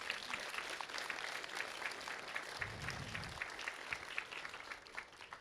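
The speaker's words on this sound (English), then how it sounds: "Round of applause, please." Audience applause at a grand opening ceremony, continuous clapping that sounds fairly distant and quiet, with a low thump partway through.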